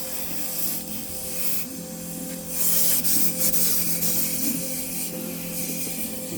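A high-pressure hose nozzle sprays inside a luxury restroom waste tank, making a steady close hiss of water against the tank walls that swells louder for a few seconds midway.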